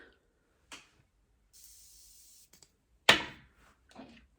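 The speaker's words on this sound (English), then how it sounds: "So, okay, we're gonna spray it again." A short hiss of an eyebrow cosmetic spray bursts for about a second, surrounded by quiet clicks and small handling noises.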